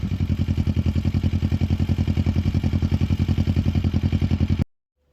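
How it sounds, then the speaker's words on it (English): A Kawasaki Versys 650 motorcycle engine idles to warm its oil, a steady rapid thumping pulse close by that cuts off abruptly near the end. "I'm going to start my bike up and let it run for 5 minutes in the background so the engine oil can get nice and warm"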